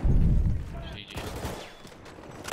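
A quick volley of gunfire crackles at the start, followed by scattered shots and clatter in the Battlefield 1 campaign soundscape.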